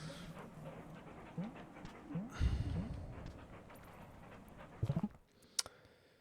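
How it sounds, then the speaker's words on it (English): A dog panting in the video game Animal Well, rapid rhythmic breathy huffs building to a loud close burst, then a few quick sharp taps and a thin whine near the end. "there goes one dog"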